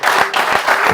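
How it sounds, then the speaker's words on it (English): A short, dense burst of clapping from a group at a surf fishing tournament gathering, honoring a first-time surf fisher. It is steady and close, with no talk over it. "Give a round of applause to Gio"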